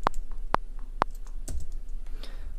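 Three sharp, evenly spaced taps on a computer keyboard's space bar, close and clear, followed by a softer click and faint key noise in a quiet room.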